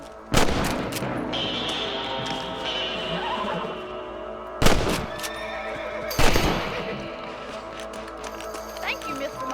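Horses neigh and whinny in the video game Red Dead Redemption, several loud close whinnies spread across the scene with hoof clip-clops and talk from game characters.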